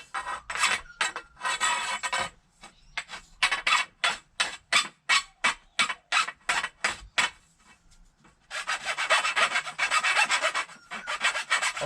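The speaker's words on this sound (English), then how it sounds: "Now I'm going to get a file, take off the sharp burrs" A hand file scrapes sharp burrs off the cut end of a pole in an even run of about a dozen rasping strokes. Steadier rubbing follows, close and fairly loud, with no talking.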